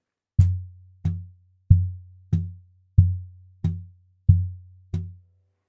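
Cajon struck eight times at a steady, even pace, a deep low bass thump on each hit with a sharper slap edge layered in, close and clear with no talking.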